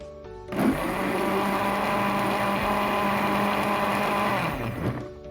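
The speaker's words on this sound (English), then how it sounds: "So now I have finished blending it." An electric blender runs for about five seconds on plantain porridge ingredients with fresh pepper, a loud, steady whirring grind that starts and stops abruptly.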